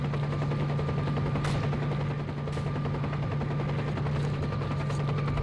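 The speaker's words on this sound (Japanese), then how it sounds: "あのヘリどうやって落とそう。" Helicopter rotor drone and bursts of machine-gun fire in S.T.A.L.K.E.R. Clear Sky, set in an abandoned hospital near a nuclear plant; a steady loud hum with sharp gunshot cracks repeating throughout.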